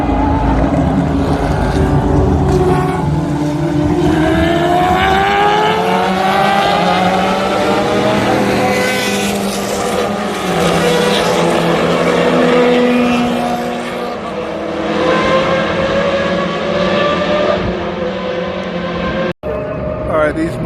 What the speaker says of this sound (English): these Mazdas are going to be full throttle now.